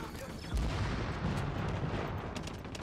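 A mine goes off in The Division, a heavy low boom that rolls into a sustained rumbling blast, loud and close, filling the short stretch with dense explosive noise.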